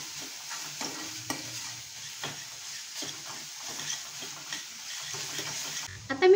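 A green masala of garlic, ginger and chili sautés in a pan, with soft sizzling punctuated by repeated spatula stirs and scrapes at an uneven rhythm, fairly close and moderately quiet.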